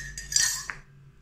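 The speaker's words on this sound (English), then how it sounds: "Spoon in your coffee" A metal spoon clinks against a cup of hot coffee, a few quick light chimes close by with nothing else around.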